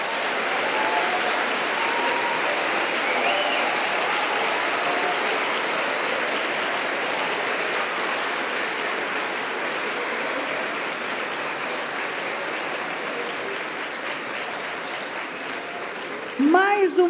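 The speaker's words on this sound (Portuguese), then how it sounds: "Você pode aplaudir o Senhor?" A church congregation applauds during a service, a long, dense wash of clapping sustained at a steady level, ending with a short burst of other sound at the close.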